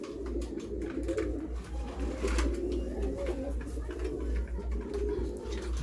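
Soft, low pigeon coos repeat steadily over a dense background murmur, with faint rustling and occasional chirps nearby.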